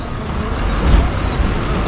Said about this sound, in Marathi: ही आहे राजापूर बोरिवली या गाड्या सगळ्या आता पुढे जातील ती पण स्लीपर आहे